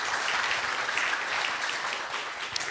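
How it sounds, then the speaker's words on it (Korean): An audience at a seminar applauds after two presentations, a continuous wash of clapping at moderate distance, steady and fairly loud with no one speaking over it. "두 분 발표들 우리 크게 박수하시면서 했으면 좋겠습니다"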